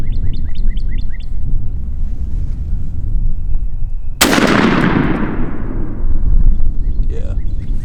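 A shotgun fires a single 1.5-ounce Rocky Ridge turkey load outdoors, one sharp, loud blast with a long decaying tail, while birds chirp in the background.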